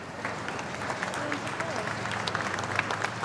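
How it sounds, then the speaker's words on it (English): Crowds clapping steadily along the Royal Mile as the Queen's hearse passes, a dense continuous patter of applause spread through an open street, with a voice speaking over it. "The Royal Mile echoed to the sound of clapping as the hearse wound its way through the city."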